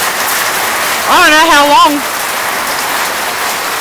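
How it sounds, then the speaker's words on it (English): Hail pelts a tin roof in a steady, dense patter with a broad hiss, while a person talks over it for about a second in the middle. "I don't think you're going to be able to hear me because of the hail on the tin roof"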